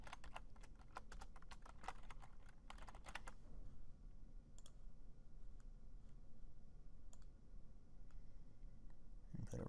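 Quiet computer keyboard typing in bursts of rapid clicks, clustered early then scattered single taps, close and soft over a low room hum.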